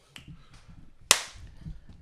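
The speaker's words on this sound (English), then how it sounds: "It's just when you clap" A single sharp hand clap made to mark the start of a recording take on a podcast set, loud and close, with faint chatter around it.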